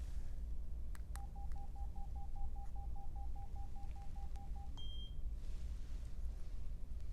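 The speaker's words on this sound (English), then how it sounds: "Click button, then scan to forehead until a beep." A forehead thermometer finishing its scan gives a steady, even beeping pulse for about three seconds, then one higher short beep, faint over constant background hiss.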